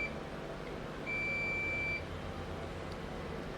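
A multimeter's continuity buzzer sounds once, a steady tone of about one second, while probing a point on a dead Acer R3-131T laptop board. It rises above a constant low background hum.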